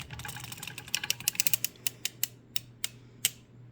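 A circular sock knitting machine is cranked while a wrapped heel is worked, giving a quick run of sharp mechanical clicks and ticks that space out and slow, over a faint low hum.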